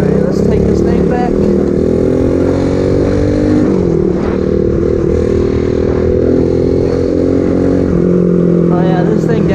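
A super pocket bike with a freshly rebuilt top end revs hard and loud during a ride, its engine note climbing and dipping repeatedly with rattling and clatter close to the listener.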